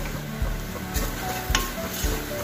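Spice powder frying in a small cooker, for a homemade mushroom curry: a low steady sizzle with a few regular stirring knocks against the metal, close up.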